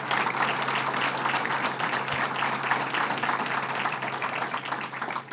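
Steady applause fills an Albany hall after Governor Cuomo's anti-gang violence remarks: dense, continuous clapping from a large audience, even and sustained, with no talk over it.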